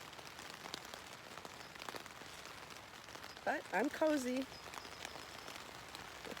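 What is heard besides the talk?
rain on tent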